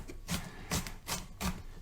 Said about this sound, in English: for chopping, I just tend to hold the tip of the knife down